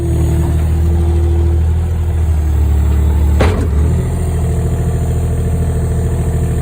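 A New Holland L150 skid steer engine runs steadily at close range during testing after a hydraulic repair, a loud low drone with a brief sharp clank midway before the rumble continues.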